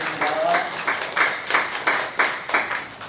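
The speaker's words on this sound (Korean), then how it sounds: "다시 한번 더 우리 하나님께 영광의 박수 올려드리겠습니다." A Korean church congregation applauds during a Sunday worship service, rhythmic waves of clapping pulsing roughly twice a second as the crowd claps in unison.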